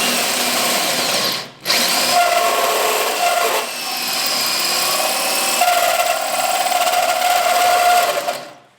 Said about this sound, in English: we'll drill a hole here so the wires have a place to go out